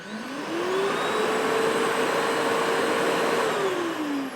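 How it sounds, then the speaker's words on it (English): A Festool CTC SYS cordless Systainer dust extractor vacuum spins up, holds a steady loud whine for a few seconds, then winds down as it clears dust from the hose, with no talking. "the vac runs for a few seconds later to make sure it gets the dust out of the hose"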